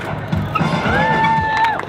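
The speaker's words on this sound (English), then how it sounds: "Oh yeah, now you cheer." A festival crowd cheering and shouting, loud and close, a continuous swell of voices with whistle-like tones rising above it.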